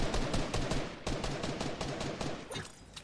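Rapid gunfire in Fortnite, a fast string of sharp shots in quick succession, close and steady, with no talking.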